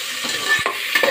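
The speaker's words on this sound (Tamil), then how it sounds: "இப்போ வெங்காயம் அப்படியே கருவேப்பிலையும் வெங்காயத்தையும் அதையும் வணக்கி எடுத்துக்கலாம்." Chopped onions and curry leaves sautéing in a hot pan give a loud, close, steady sizzle, while a utensil stirs through them in a few quick scrapes.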